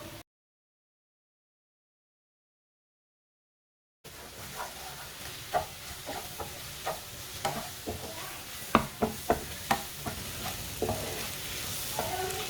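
Eggs and green chillies being stirred while frying in a pan: a few seconds of silence, then a steady sizzle with repeated sharp scraping clicks from the stirring utensil, close and fairly quiet.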